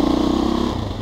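A Husqvarna 510 SMR motorcycle engine revving close by, a loud, rough throbbing pulse held steady for about a second.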